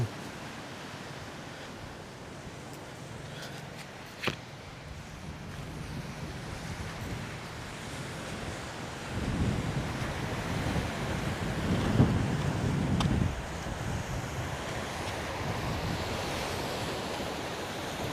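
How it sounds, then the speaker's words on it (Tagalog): Ocean waves roll onto a beach in Botolan, Zambales, a soft, low surf wash swelling and easing in the distance, mixed with gusts of wind buffeting the microphone. "Safe sa hampas ng alon, no?"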